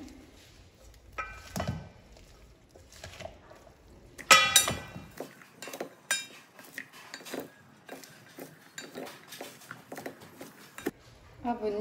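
Utensils tossing a composed salad dressed with vinaigrette in a bowl, with scattered clinks and scrapes against the bowl, close and fairly quiet, and a sharper cluster of clatter midway.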